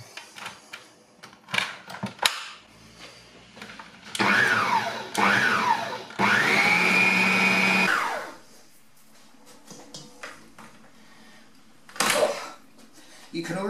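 Electric food mixer beating thick chocolate chip cookie dough, running in loud whirring bursts with the motor pitch rising and falling, stopping between runs, with kitchen clatter around it.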